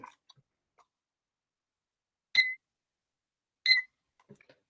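A classroom timer sounding two short, clear electronic beeps about a second and a half apart over near silence, with faint small clicks around them.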